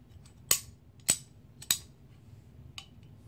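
Mechanical clicks from a newly installed AR-15 trigger and safety selector being dry-fired and worked: three sharp, close clicks about half a second apart, then a softer fourth click after a pause, with no talk.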